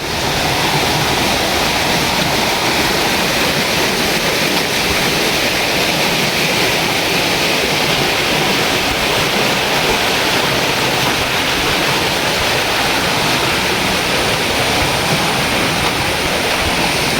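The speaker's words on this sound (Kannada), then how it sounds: "ನದಿ ನೋಡ್ಬೋದು ಇಲ್ಲಿ" River water rushes in a steady, broadband roar beside a mud crab trap being prepared, loud and continuous throughout with no voices.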